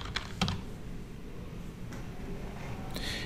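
A few sparse, light keystrokes on a computer keyboard, typing a search into a Windows Start menu, click softly and close up against a quiet background.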